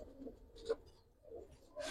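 Giribaz pigeons, a colored breed offered for sale in pairs, coo softly in a few low, murmuring phrases at close range, fairly faint and with no talking over them.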